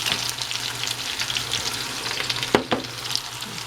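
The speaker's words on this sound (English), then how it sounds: "So after you fry for a while, they start changing the color." Eggplant sizzles and fries in a home-kitchen pan with a steady crackle, a few brief stirring scrapes toward the end and no talking.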